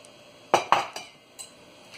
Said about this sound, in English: Give all the dry ingredients a mix